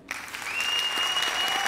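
A studio audience applauds on a Turkish folk-song TV competition's super final, a dense, loud burst of clapping that swells quickly and holds steady, with a faint sustained tone running beneath it.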